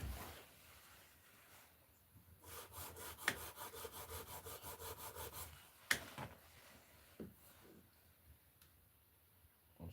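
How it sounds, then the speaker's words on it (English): Hand sanding of wood, heard as a quick run of rhythmic back-and-forth rasping strokes, faint and close, with a couple of sharp taps and quieter rubbing before and after. "I'm just going to use my pencil to kind of help me see where I'm sanding."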